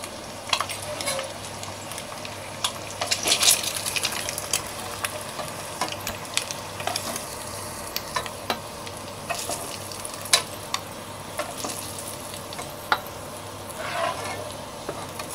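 Eggs fry in oil in a pan, a soft steady sizzle broken by scattered sharp clicks and taps of a utensil, fairly close and quiet with no voices over it.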